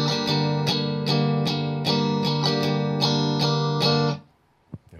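A distorted electric guitar chugs out steady all-down-stroke chords in a lilting 6/8 pulse, loud and close, then the final chord is cut off into near silence.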